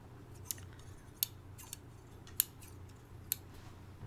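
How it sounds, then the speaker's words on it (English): Scissors snip a few times, crisp metallic clicks spaced about a second apart, close and quiet against a soft background hiss. "these are the nicest scissors that I have ever held"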